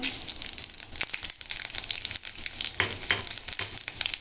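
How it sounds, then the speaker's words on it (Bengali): Dried red chilies, bay leaves and five-spice seeds hit hot oil in a kadai, giving a crackling, spattering sizzle with irregular pops and small scrapes, close and fairly quiet. "তেলটা গরম হয়ে গেছে এবার ফোড়ন দেওয়ার পালা দেব শুকনো লঙ্কা তেজপাতা বাবা এই পাঁচ ফোড়ন"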